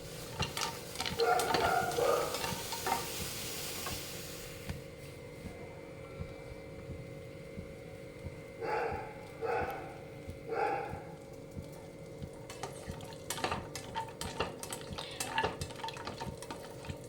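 Cashews frying in melted ghee give a soft, steady sizzle with occasional stirring scrapes and clinks, faint and continuous throughout, with no voices.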